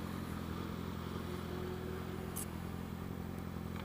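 Steady, even drone of a 600cc motorcycle engine heard from the rider's position, with constant wind roar and no clear revving.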